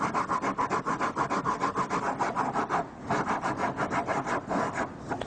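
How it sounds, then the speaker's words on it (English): A car body panel being rubbed with coarse 40-grit sandpaper in quick, rhythmic back-and-forth strokes, close and loud, with a brief pause midway before the scraping resumes; no voices. "This is 40 grit. Okay. That's basically to take off the large imperfections on the surface"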